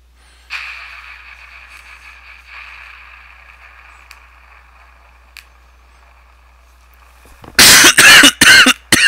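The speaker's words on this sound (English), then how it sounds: "I apologize for every single cough that I'm going to be doing." A person coughs hard several times in quick bursts near the end, loud and close, after a stretch of faint background hum from a Mystical Ninja Starring Goemon game.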